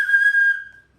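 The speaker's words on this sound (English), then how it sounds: "If you want to blow your whistle," A single sharp whistle blast rings out loud and steady for about half a second before fading away, heard alone.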